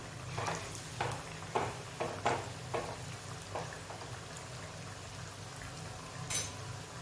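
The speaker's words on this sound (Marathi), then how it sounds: "व्यवस्थित लाल होईपर्यंत त्याला आपल्याला तळून घ्यायचं आहे" Dal bati pieces fry in hot oil until golden red, a steady low sizzle with scattered crackling pops and bubbling, close and moderate in level, with no talking.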